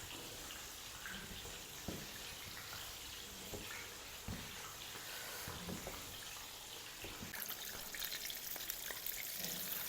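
Coated chicken broast frying gently in oil over a low flame, a steady soft sizzle with occasional small pops and crackles throughout, fairly quiet and with no talking.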